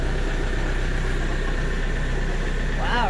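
A Kioti tractor engine runs at a steady idle just after a cold start on a snowy day, a close, even, unbroken rumble throughout.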